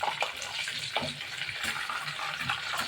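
Chicken legs fry in oil for a wedding-style roast, a moderately quiet, crackling sizzle with faint spatters and stirring throughout.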